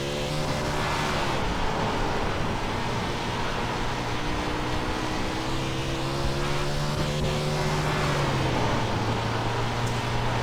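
A USAC 360 sprint car in the iRacing simulator drones at sustained full throttle, its steady harmonic engine whine shifting pitch as it rounds the track, loud and continuous with no talk.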